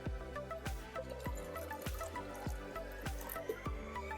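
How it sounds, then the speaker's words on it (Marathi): Water is poured into a container holding concentrated antiscalant solution, giving a close, quiet series of rhythmic glugging splashes with no talking. "याच्यामध्ये मी थोडंसं पाणी पण टाकतो"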